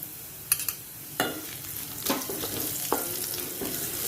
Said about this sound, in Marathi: आपण हिंग फोडणीला देऊया